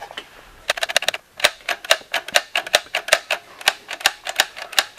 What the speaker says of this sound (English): This is a simplex typewriter.